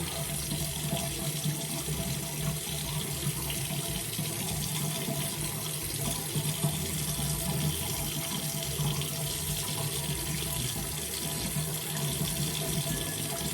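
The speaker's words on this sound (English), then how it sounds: "Now I'm going to run another bowl of hot water" Hot water runs steadily from a tap into a bowl at a bathroom sink, a continuous close splashing rush that stays even throughout with no talking.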